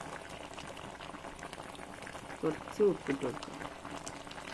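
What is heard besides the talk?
chicken curry pidi dumplings boiling in pot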